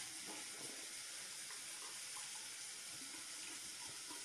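Tap water runs steadily into a sink while a product is rinsed off, a continuous broadband splashing hiss with no voices.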